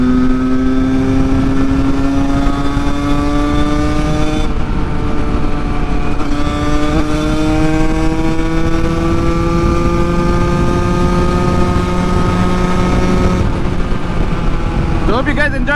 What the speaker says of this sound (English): Wow, so nice the sound of the two-stroke.